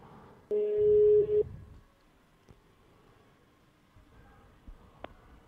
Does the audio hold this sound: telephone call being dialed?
yes